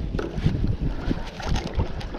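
A Hobie Adventure Island sailing kayak glides slowly through water in light wind, giving a steady low wash and splashing close by, with wind buffeting the microphone throughout.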